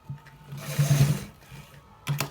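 A sewing machine stitches a designer shirt collar, a steady motor hum that swells through the middle and cuts out briefly before a short final burst, close and alone.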